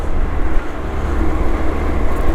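Yamaha Axis Treet 125 scooter engine pulling hard during a top-speed run, a steady loud drone with rumbling wind and road noise close by, no voices.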